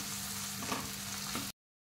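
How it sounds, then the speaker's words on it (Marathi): Steady frying sizzle of ginger-garlic paste in hot oil tempering, loud and close, with a couple of brief stirring scrapes. "आता आपण फोडणीमध्ये थोडी अद्रक लसूणची पेस्ट घालत आहे"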